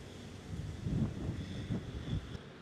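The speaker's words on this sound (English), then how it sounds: "It's quite windy today." Gusty wind buffets the microphone outdoors in an open area in Taiwan, producing low rumbling bursts that rise and fall with no voices.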